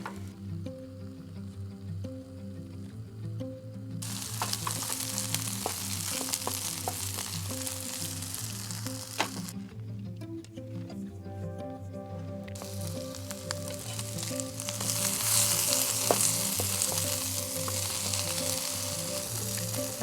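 Food browns in a pan at a camp kitchen in a truck camper near Escalante, Utah, giving a steady close sizzle with scattered crackles over a low background hum. The frying grows louder toward the end.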